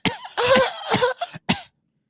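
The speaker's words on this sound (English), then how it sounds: "You got to get the whiny cough in there." A man fakes a whiny cough: a few drawn-out, voiced coughs with a nasal whine, close and loud, ending in one short final hack before silence.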